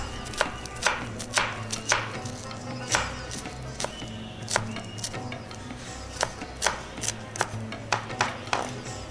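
A knife cubes an onion on a cutting board, crisp, close chops falling in an uneven steady rhythm, with a quiet low hum underneath.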